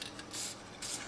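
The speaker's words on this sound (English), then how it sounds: "shake the can and spray a small amount on the inner and outer surfaces of the urethane" Two short hisses of wax lubricant sprayed from an aerosol can onto a urethane shock-mount bushing of an E46 BMW, quiet and close, with a pause between bursts.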